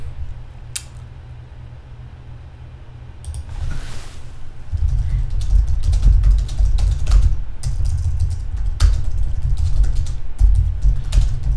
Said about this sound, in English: I'm just typing him right now that he should check afterwards if the stream is running okay